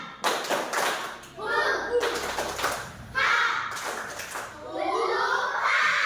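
Schoolchildren in a fifth-grade class perform a rhythmic group spirit clap, bursts of patterned claps and taps in several phrases, with children's voices chanting along between and over them.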